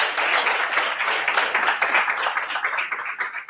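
Church congregation applauding during a Portuguese-language service, a dense, loud, continuous burst of clapping lasting a few seconds with no talk.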